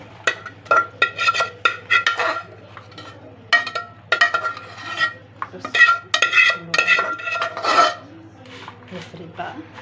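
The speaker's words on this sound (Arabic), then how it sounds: "هنفرده بقى على الصينيه اللي احنا دهنينها زيت" Caramel popcorn spread and scraped across a greased metal tray with a utensil, giving repeated close scraping and clinking strokes in uneven bursts, with a steady low hum underneath.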